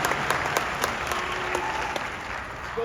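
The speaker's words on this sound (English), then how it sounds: "Give these guys a round of applause" An audience gives a round of applause at a sales team gathering, a dense, even burst of clapping that holds steady and then thins slightly toward the end.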